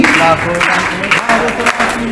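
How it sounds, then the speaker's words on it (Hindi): Community event crowd claps along with a song, rhythmic applause mixed with voices and singing over background music, loud and close. "मैं चाहता हूँ कि आप भी हमारे साथ थोड़ा ताली बजा के साथ में गाइए"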